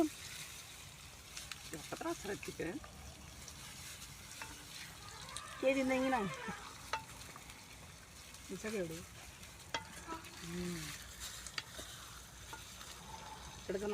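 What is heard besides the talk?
stirring village-style chicken curry frying in a pot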